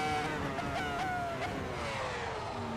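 F1 race cars from the 2003 season passing each other on track in Assetto Corsa, high engine whines rising and falling as they overtake, moderately loud and close, with layered engine tones.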